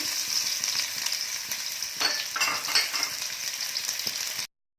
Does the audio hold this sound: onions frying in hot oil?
yes